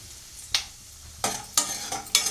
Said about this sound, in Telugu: ఇది మంచి కలర్ వచ్చే వరకు మనము వేయించుకోవాలి.